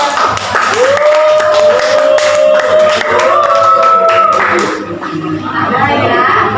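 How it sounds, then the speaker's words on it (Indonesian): A classroom of students claps together in a sustained round of applause, close and lively, while a voice speaks over the clapping and children chatter underneath. "Tepuk tangan buat kalian."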